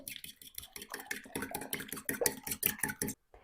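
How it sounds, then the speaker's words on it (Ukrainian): A fork beats eggs with sour cream and spices in a bowl, giving a steady run of quick clinking taps against the sides, close and clear, with no talk over it and a brief silence at the end. "Перемішую, змішую виделкою."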